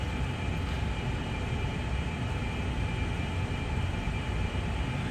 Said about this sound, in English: I don't know if you can hear the loud noise behind me, but that would be my furnace going.